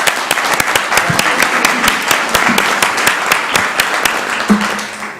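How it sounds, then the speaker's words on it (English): A council meeting audience in Columbus, Georgia, applauds, giving a dense, steady round of clapping that carries the whole time with a few faint voices underneath. "give them a round of applause,"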